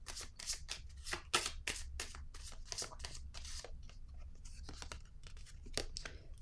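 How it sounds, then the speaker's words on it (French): A tarot card is laid down on a table among quick close papery card rustles, flicks and slides that come in short bursts, soft and near, with no talking. "Je vais déposer une carte ici pour cette zone."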